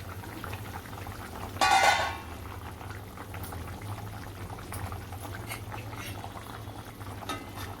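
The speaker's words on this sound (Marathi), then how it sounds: "आपलं कालवण चांगलं उकळले" Fish curry boils in a pot over medium gas just after the lid comes off, a steady low bubbling simmer with a brief louder burst early on, no talking.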